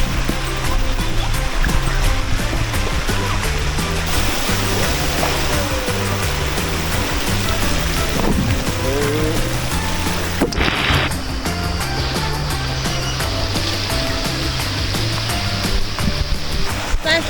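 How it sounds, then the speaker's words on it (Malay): Water splashes and churns steadily at an island resort on Pulau Perhentian, a loud continuous wash that persists throughout with a brief sharper burst midway. "Splash the water."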